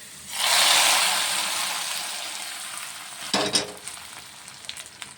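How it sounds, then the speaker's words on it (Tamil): Onions sautéing in a pan for a lentil-spinach sambar, a loud burst of sizzle as they hit the hot oil, easing into a steady hiss with a few sharp spatula clatters near the end. "வெங்காயம் வந்து நல்லா வந்து வதங்கணும்"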